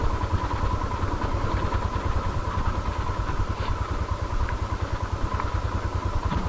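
A motorcycle engine runs steadily with a low, throbbing mid-pitched hum and a faint clatter. It is heard on a downhill ride from the snowline toward McLeod Ganj and stays fairly quiet and continuous throughout.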